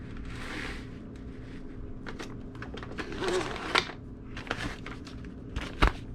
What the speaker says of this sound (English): You lay your roll of bag in there, slide them out, cut them off.